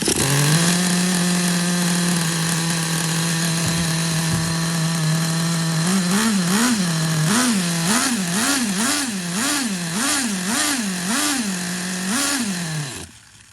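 Nitro engine of a vintage Traxxas Nitro Sport RC car, a high, buzzing whine that holds steady, then revs up and down in a quick run of repeated throttle blips before cutting off abruptly at the end.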